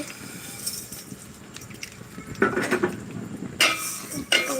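Vermicelli (semai) is stirred in oil in a pot, a spoon scraping and clinking against the metal in irregular bursts, louder strokes in the second half with a faint sizzle beneath.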